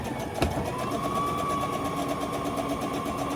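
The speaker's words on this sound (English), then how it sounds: "We're going to sew the top." A sewing machine stitching across the top of a fabric pocket tissue holder runs at a steady, fast hum close by, with a brief click near the start.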